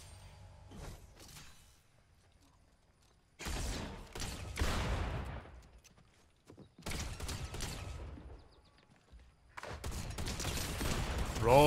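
Shotgun gunfire in the video game Fortnite, loud bursts of blasts in three separate clusters with quiet gaps between them, and no clear talk.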